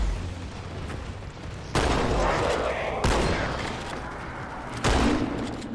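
Shotgun blasts in Halo Infinite, several heavy booming shots spaced about a second or more apart, loud and close over a constant rumble of game noise.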